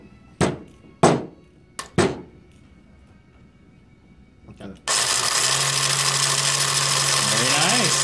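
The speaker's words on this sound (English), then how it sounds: "first successful gearbox with a motor that we built" A student-built robotics gearbox driven by a motor on its first test run: a few sharp thunks and clanks, then a sudden loud, steady whirring drone that holds at full level to the end.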